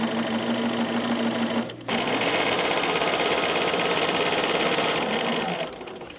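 A sewing machine fitted with a 57D foot runs a quarter-inch seam around a fabric face mask, a steady close motor whir with stitching chatter, briefly stopping and restarting partway through, then continuing alone.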